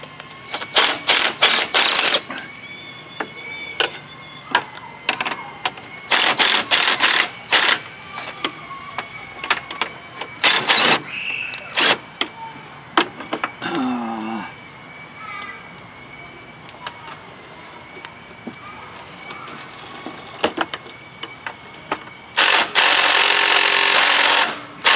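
An impact gun hammers at motor mount bolts on a Kohler Courage lawn tractor engine, loud rattling bursts in short repeated runs separated by quiet gaps, with a longer burst near the end.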